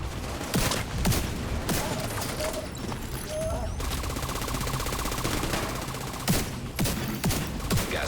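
Gunfire from The Division 2 video game as enemies are shot: repeated loud bursts of automatic fire with sharp individual cracks, set against a continuous background of combat noise.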